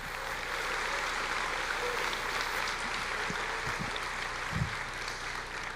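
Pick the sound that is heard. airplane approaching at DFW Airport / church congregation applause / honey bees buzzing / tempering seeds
church congregation applause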